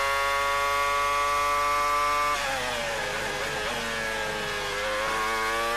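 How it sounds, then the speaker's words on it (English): Formula 1 car with a Mercedes engine running at full revs in practice at the 2002 European Grand Prix, a loud sustained high-pitched engine whine holding steady, then dropping and climbing again through a gear change. "the Mercedes engine working hard"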